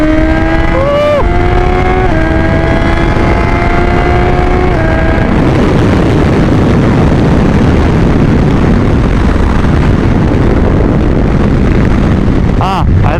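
A BMW S1000 XR motorcycle accelerates hard. Its engine note climbs in pitch through several gear pulls, then gives way to a loud, steady roar of wind and engine noise heard from the rider's position.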